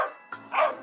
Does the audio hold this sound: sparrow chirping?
no